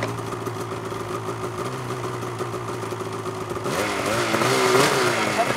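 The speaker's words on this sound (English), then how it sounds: "listen to the blip of the throttle, on the throttle, off the brake" A snowmobile engine runs steadily on a downhill track, then revs up with throttle blips, the pitch rising and wavering in the final seconds; the engine is loud and close, with no talk.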